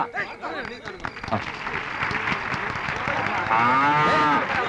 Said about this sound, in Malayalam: മിസ്റ്റർ മുകുന്ദൻ പേര് വിളിക്കുന്നതനുസരിച്ച് നിങ്ങൾ ഓരോരുത്തരും മുന്നോട്ട് കടന്നു വന്ന് പശുക്കളെ ഏറ്റുവാങ്ങേണ്ടതാണ്.